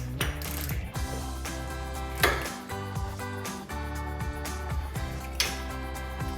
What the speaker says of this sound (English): Just want to snug this one down pretty good.